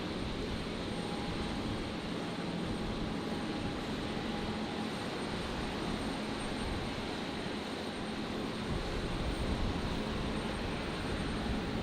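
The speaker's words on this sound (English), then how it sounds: "So the China Airlines 350 arriving in Brisbane for the second time today." A China Airlines Airbus A350 on final approach to land at Brisbane runway 19 left gives a steady, loud broadband jet roar that holds evenly throughout without any talk.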